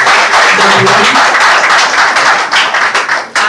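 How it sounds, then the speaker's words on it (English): At a school debate competition in a hall, the audience breaks into loud, close applause, many hands clapping fast and evenly, thinning slightly near the end with a few sharp individual claps. "Please, a round of applause across the room"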